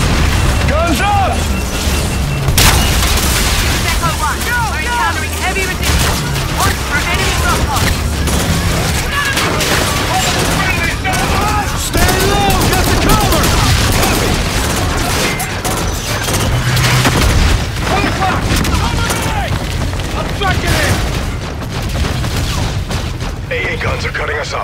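Heavy gunfire and booming explosions fill a Call of Duty Infinite Warfare battle, with dense, continuous bursts and blasts under frequent shouted radio chatter and voices.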